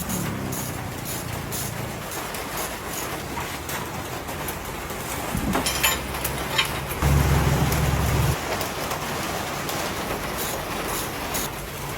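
Steady heavy rain hisses without pause, with a deeper rumble swelling briefly partway through.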